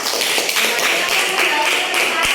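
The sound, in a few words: classroom applause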